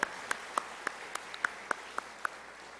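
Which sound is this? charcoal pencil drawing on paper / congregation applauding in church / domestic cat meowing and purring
congregation applauding in church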